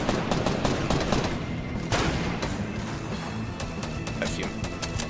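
Rapid gunfire fills a Fortnite fight, dense overlapping shots and bursts hammering continuously and loud, with sharper cracks standing out over the barrage.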